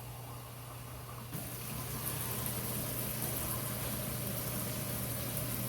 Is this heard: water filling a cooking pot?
yes